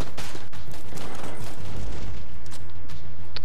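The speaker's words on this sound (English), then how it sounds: "Thompson submachine." A Thompson submachine gun, the Tommy Gun, firing in Enter the Gungeon: loud, close, dense rapid bursts that rattle for a few seconds before thinning out.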